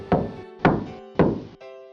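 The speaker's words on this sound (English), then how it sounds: "he went and knocked on Grandma's door" Three firm, evenly spaced knocks land on a door, close and hollow-sounding, with a faint low hum underneath and a softer tap trailing at the end.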